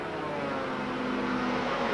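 Racing motorcycles at the 1991 Macau Grand Prix street circuit: a sustained, rising engine whine with steady pitch, moderately distant and continuous for two seconds, without speech.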